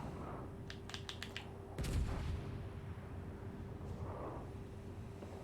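German battleship guns fire in the World of Warships Legends naval game: one heavy, booming shot stands out among a few sharp cracks over a steady low hum, with no one talking.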